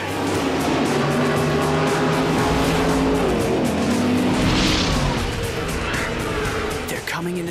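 Radio-controlled cars race on a track, their high-pitched motors whining and shifting pitch as they accelerate and brake, with tire squeals and cars sweeping past up close over a continuous engine drone.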